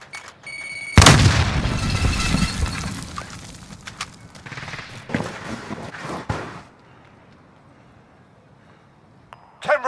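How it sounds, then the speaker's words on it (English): Frag grenade blast in a Warzone battle royale match, a loud boom about a second in with a long rumbling tail, followed by scattered gunshots and clicks that fade into quieter ambience, with a final sharp report at the end. "Throwing frag."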